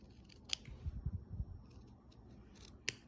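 Scissors cut a felt sheet for an embroidered peach dishcloth, a few soft, close snips with two sharp clicks of the blades, quiet otherwise and no talking.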